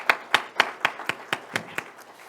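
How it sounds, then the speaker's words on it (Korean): A single person's hands clapping about nine times in an even, steady rhythm, close and distinct, slowing and fading slightly, at a Korean Presbyterian ordination service. "크게 우리 박수 한번 하겠습니다"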